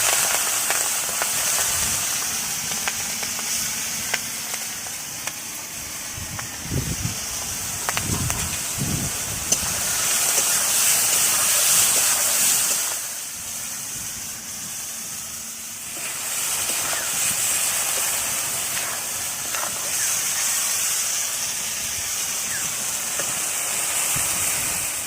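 Prawns frying in oil on a home stove, cooked for a prawn and young pumpkin dish, give a steady crackling sizzle that swells louder and denser mid-way, then settles into a softer, even fry with no voices.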